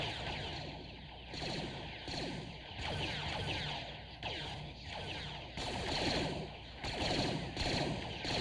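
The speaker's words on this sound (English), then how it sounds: "The shore troopers are still exchanging fire with the rebels on this side" Continuous battle fire between shoretroopers and rebels in the video game Men of War: Assault Squad with a Star Wars mod, set in a rebel assault on Scarif. Bursts of rapid shots and blasts overlap in a dense, steady clatter of moderate loudness.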